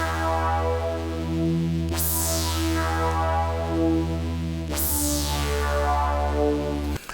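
Original synthwave synthesizer patch, its tuning slowly drifting, plays a sustained, aggressive chord-like tone with bright swept accents at intervals; it is loud and continuous with no talk.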